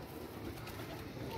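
A Teddy pigeon coos softly in a brief, low murmur against faint background noise.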